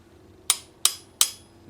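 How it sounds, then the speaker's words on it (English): Three sharp metallic hammer taps driving a pin into an IAC Model 87W lever-action shotgun, in quick, even succession, each ringing briefly, close and clear in a quiet space. "hammer it through"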